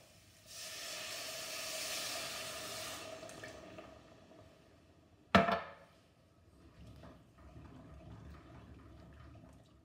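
Steady watery hissing and bubbling of about 1.5 cups of water boiling in a pot for lotus seed curry, followed by a sharp clatter and quieter simmering.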